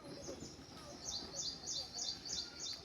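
Colorful sparrows in a cluster fig tree give a run of high, thin chirps repeated at an even pace, faint and somewhat distant over a low background hum.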